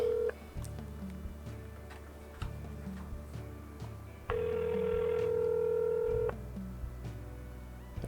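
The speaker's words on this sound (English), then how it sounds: "Let's call, bring up the speaker, and let's see if we've won." A phone number keyed on a speakerphone produces a run of distinct dialing tones of varying length, steady and fairly loud, with clicks between presses and one long sustained tone in the middle; no one speaks.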